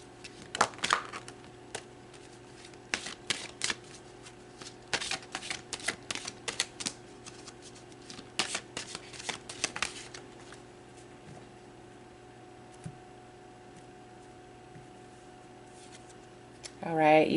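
Tarot cards are shuffled in quick, crisp bursts of riffling and tapping, close and fairly quiet, coming in clusters through the first ten seconds and then trailing off into near silence.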